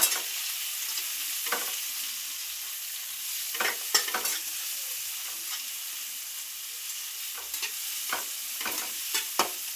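Chopped garlic fries in hot oil with a steady, bright sizzle, broken by occasional clicks and scrapes of a spoon stirring in the pan.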